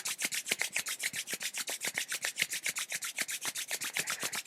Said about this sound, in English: And rubbing the hands together, creating heat.